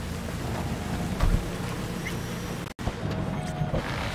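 Rain falls steadily in the Cyberpunk 2077 Phantom Liberty expansion, a constant hiss with low rumbling underneath, a brief dropout midway, and faint voices in the background.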